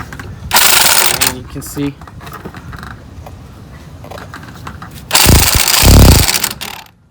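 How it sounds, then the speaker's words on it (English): Impact wrench pulling a new wheel stud into a car hub, two loud rattling bursts of hammering separated by a quieter stretch, with someone speaking briefly between them. "I'll use here an impact, but if you don't have it, you still can use a ratchet."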